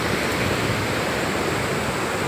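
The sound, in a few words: water flowing at Tunga river backwater, Gajanur Dam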